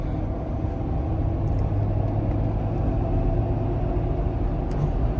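A lifted Ford F250 pickup with a 6.7 Powerstroke diesel drives along winding small-town roads, heard from inside the cab. Its deep, steady rumble holds at a constant level without voices.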